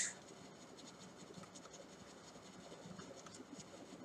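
Chalk or marker scratching on a board during a chemistry lesson, a steady faint scraping texture running throughout with small irregular strokes, no talking over it.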